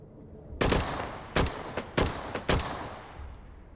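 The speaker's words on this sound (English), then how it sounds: "I'm shooting." Gunshots in the H3VR virtual reality shooter fire in four or five loud, sharp, spaced single reports, each with a brief ringing tail, with no talk over them.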